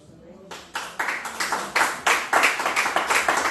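A church congregation claps together in a brisk, even rhythm that starts after a short pause and keeps going, many hands close and loud.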